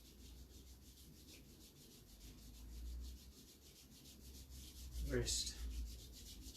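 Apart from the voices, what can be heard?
hands rubbing shoulders and arms in self-massage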